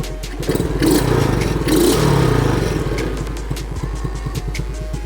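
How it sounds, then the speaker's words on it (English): Small pocket rocket mini bike engine with an upgraded carburetor idling close by, a loud buzzing two-stroke putter with a brief rise in revs near the start before settling back to a steady idle. "I think it's idling up just a hair"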